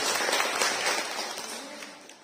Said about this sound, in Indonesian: Ibu-ibu, tepuk tangan buat Bapak kepala desa kita yang sudah memperhatikan kita selama ini.